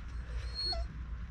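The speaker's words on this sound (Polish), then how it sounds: "Też pieski są." A small dog whimpers faintly in an open field, a brief high whine rising over steady low rumble of wind or background noise.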